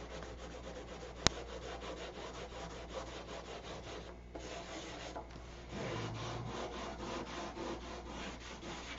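Steady, soft rubbing of 1000-grit sandpaper against a surface by hand, back-and-forth strokes continuing evenly, with one sharp click early on.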